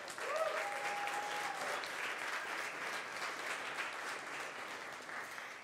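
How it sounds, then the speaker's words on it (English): Audience applause at a startup demo day as a speaker is welcomed on stage, a steady wash of many hands clapping throughout, moderately loud and even, with a brief tonal whistle-like line near the start. "a big round of applause for Laurenz Wagner"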